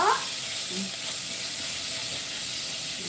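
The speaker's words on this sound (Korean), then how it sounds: "참기름을 넣고 소고기를 이렇게 볶아주세요" Beef stir-frying in sesame oil in a pan makes a constant, even hiss and sizzle from start to finish, with a brief faint voice near the beginning.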